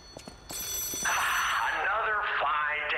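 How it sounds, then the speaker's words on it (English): Old telephone bell ringing in the video game Lies of P, a loud warbling trill that starts after a few soft knocks and carries on steadily, close. "Oh, another phone."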